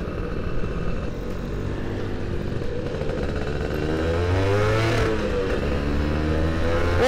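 A Suzuki Satria 120R two-stroke motorcycle accelerating hard, its engine note climbing and buzzing loudly up through the revs, then dropping after a gear change and rising again, recorded close up.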